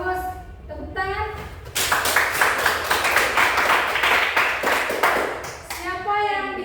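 Students in an Islamic religious education class break into rhythmic group clapping after a teacher speaks, and the rhythmic patter carries on loud and steady before the teacher's voice returns.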